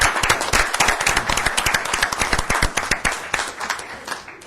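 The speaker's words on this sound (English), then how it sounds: "let's give them a little round of applause" A small group at a city council meeting gives a steady round of clapping that lasts several seconds and fades out at the end.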